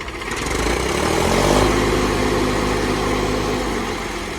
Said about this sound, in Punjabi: ਤੇ ਬਾਕੀ ਟਰੈਕਟਰ ਦੀ ਰੇਸ ਮਾਰ ਦੇ ਇੱਕ ਵਾਰੀ